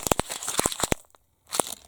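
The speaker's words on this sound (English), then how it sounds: "give it a crumple" Sheet of waxed printable paper being crumpled by hand, a series of sharp close crinkles and crunches in quick bursts, a short pause, then one more crackling burst.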